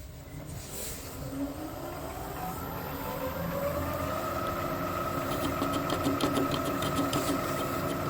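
A rebuilt KASTO EBS 400 power hacksaw runs in gear, its motor drone rising slightly in pitch and settling into a steady, close mechanical hum with faint rattles above.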